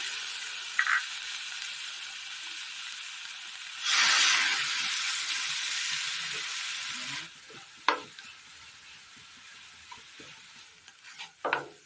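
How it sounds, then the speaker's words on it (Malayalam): Tomatoes sautéing in a pan: a loud burst of hissing sizzle as they hit the hot surface, settling into a steady fry, followed by scraping stirs and clattering utensil knocks. "അതേ പാനിൽ തന്നെ തക്കാളി ഇട്ട് കൊടുത്ത് ഒന്ന് വാട്ടിയെടുക്കാം"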